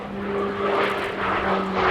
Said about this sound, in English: Single Pratt & Whitney Canada PC-9M turboprop of 950 shaft horsepower driving this machine.